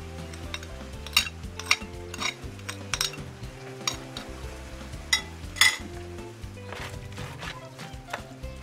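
Peanut sauce with crushed spices is stirred in a pot for a Cameroonian peanut paste dish, giving steady scraping and clinking of a utensil against the pot over a soft sizzle, with sharper knocks scattered through.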